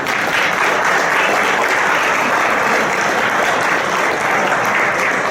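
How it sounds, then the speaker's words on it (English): Dense, steady applause fills a retirement party for a fire department chief, with many people clapping loudly and continuously without pause. "they deserve a big round of applause"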